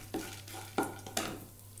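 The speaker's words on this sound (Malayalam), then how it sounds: "ഈ പരിപ്പ് ഒന്ന് ചുമക്കുന്ന വരെ നമുക്കിതൊന്ന് വറുക്കണം." Dal, dried red chillies and tamarind roasting in a pan on low heat for coriander seed chutney give a soft steady sizzle, broken by a few sharp stirring scrapes, close by with no talk.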